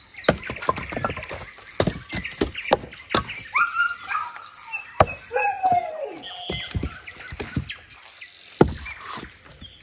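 Dog whining and whimpering at night on a rural homestead after a run, high wavering cries repeated in bursts close by, mixed with clattering and scratching noises, no talk.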